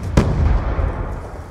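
Sharp gunfire from the video game Black Ops 2, one loud shot near the start followed by a dense rumbling wash of rapid shots and booms throughout.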